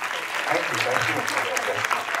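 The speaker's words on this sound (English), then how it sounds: "And I think a big clap for all these guys." Steady applause from a crowd, dense clapping throughout with some voices mixed in underneath.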